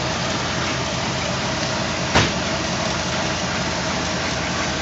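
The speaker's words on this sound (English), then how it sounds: "The engine runs smooth." A car engine idles smoothly with one of its belts missing, a steady, even rumble up close with a single brief click partway through and no voices.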